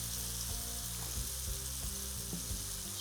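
Venison backstrap searing hard in a hot stainless steel pan, a loud dense hiss and crackle of fat that stays constant throughout, close up and uninterrupted.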